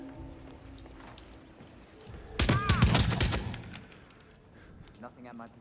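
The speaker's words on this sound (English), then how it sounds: "now another way is when we shoot our way through everybody" Gunfire from shooting enemies in the video game Hitman, a dense burst of loud shots and fusillade mid-clip, with quieter game ambience and brief voice-like sounds before and after.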